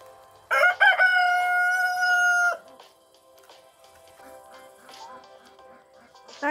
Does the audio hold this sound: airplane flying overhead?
no